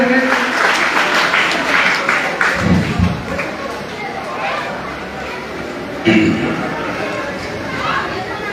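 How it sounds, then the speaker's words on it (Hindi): Applause from an audience at a Buddhist assembly gathering in Bihar welcoming a speaker, clapping swelling in bursts with crowd chatter while someone speaks over it. "एक बार जोरदार ताली से"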